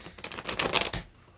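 Tarot cards shuffled by hand, a close burst of rapid clicking riffles lasting about a second, then fading out.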